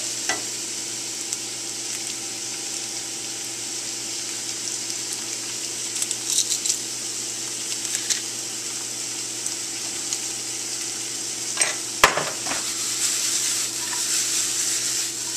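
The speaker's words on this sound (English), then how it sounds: "we're just going to saute that for about 3 minutes, just until it gets slightly translucent" Onion and garlic sauté in hot olive oil with a continuous even sizzle, close and steady, broken by a few louder stirring scrapes and clatters of a utensil in the pan, no voices.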